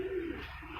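A breeder pigeon coos close by, a short low tone followed by a softer murmuring trail, quiet and without talk.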